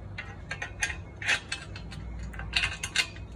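Screws, washers and nuts being hand-tightened on a bubble wrap rack: faint, scattered metallic clicks, ticks and small scrapes in quick irregular bursts, close by, without talk.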